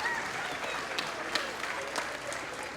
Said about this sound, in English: There's the crowd.